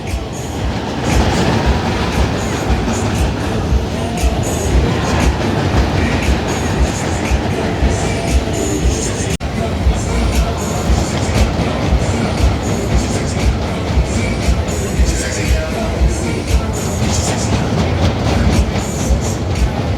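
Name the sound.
Bayern Curve fairground ride rumbling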